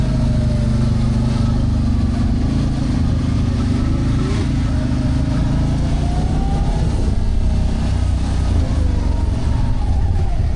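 A CFMOTO ZForce 800 Trail side-by-side races, its engine droning loudly and steadily with rising revs, close and continuous throughout, with faint talk beneath.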